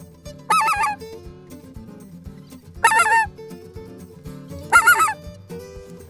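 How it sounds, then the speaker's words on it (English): Speckled-bellied goose honking in flooded timber, three loud, separate bursts of harsh calls spaced a couple of seconds apart, with no talk over them. "We're fixing to kill this goose."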